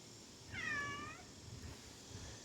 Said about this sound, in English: this cat's meowing over here